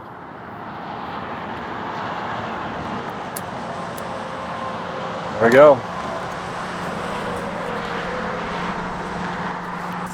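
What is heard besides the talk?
traffic noise from nearby interstate highway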